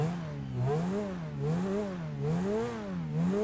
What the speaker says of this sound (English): The Turismo R has that unique startup where the car just revs.